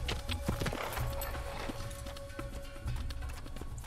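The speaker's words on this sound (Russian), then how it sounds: "Вот он, галоп." Horse galloping in the video game Assassin's Creed, a rapid steady clip-clop of hooves that runs throughout, close and fairly loud.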